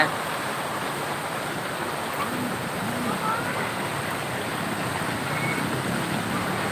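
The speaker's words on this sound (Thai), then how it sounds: "ฝนตกมาหลายวันครับ" Steady rain hiss fills the scene, an even wash of noise with faint voices somewhere beneath it.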